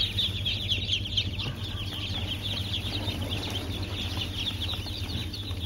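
Muscovy ducklings released from a tray, about fifty together, making a dense continuous chorus of high peeping and cheeping with some scuffling, steady and close throughout.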